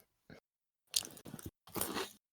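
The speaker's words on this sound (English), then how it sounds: "Let me finish chewing." Close, crunchy chewing of food right at the microphone, arriving in three or four short bursts separated by brief silences, with no talking.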